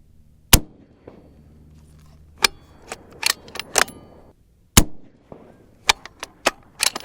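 6.5 Creedmoor rifle firing a 130 grain ELD-M handload: a sharp, loud shot cracks near the start, followed by several more sharp impulsive bangs and clacks spread through the clip, with quiet gaps between them.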